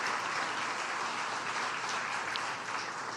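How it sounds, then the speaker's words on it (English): Dense, even applause from an audience at a parish State of the Parish event, honoring board members, heard as a continuous wash of clapping at moderate distance without pauses. "Let's give our board members a big round of applause."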